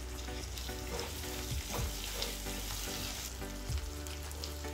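Chopped capsicum sizzles and fries in a pan for soybean chilli, a steady crackling hiss with occasional stirring scrapes, close and alone without talk.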